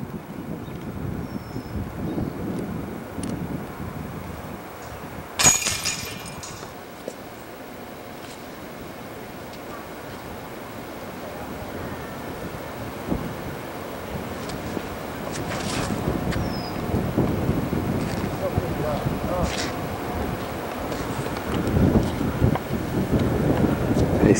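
Fierce wind gusting across an outdoor disc golf course, a steady roar and buffeting on the microphone that swells louder toward the end, with a brief knock partway through.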